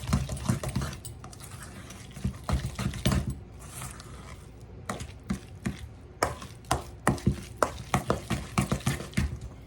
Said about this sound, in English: let's stir this up, y'all